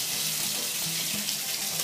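Water runs from a bathtub faucet into an empty tub, a steady, dense hiss and splash at constant loudness with no voices.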